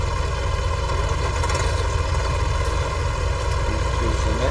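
A 754 cab-over tractor engine running at a farm show makes a steady, loud, close mechanical drone with a low rumble and light clatter, continuous throughout without a break.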